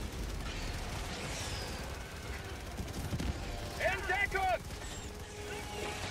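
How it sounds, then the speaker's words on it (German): Gunfire in Helldivers 2, scattered shots and mechanical clatter mixed into a busy battle soundscape, with a player talking over it. "hier sind überall Schüsse"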